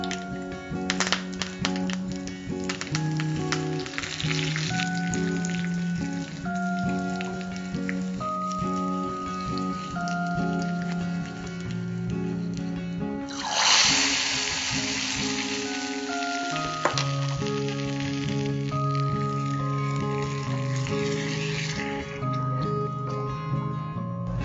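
Cumin, dried red chillies and curry leaves crackle in hot oil for a rasam tempering, a steady bright sizzle with a louder burst of spitting midway, under background music.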